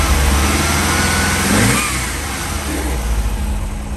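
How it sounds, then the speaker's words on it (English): A Volkswagen Vanagon Syncro Doka van engine with a fresh spark plug revs loudly up close, climbing then easing back toward a rough idle. "Give it a rev."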